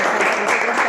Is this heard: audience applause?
yes